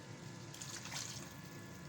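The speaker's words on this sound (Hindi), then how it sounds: "1 कप पानी डाल देंगे" A cup of water is poured into a pan of potato keema (minced meat with potatoes), giving a short steady splashing rush at low volume with no talking.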